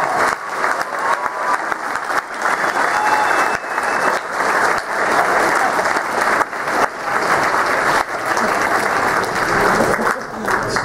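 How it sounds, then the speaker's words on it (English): Student athletes at the Cal Poly Night of the Mustang 2012 applaud coaches, staff and donors, a loud, continuous round of crowd clapping with slight swells in intensity throughout. "student athletes, join me in giving a round of applause to the coaches, the staff, the members of the athletic department, and our donors"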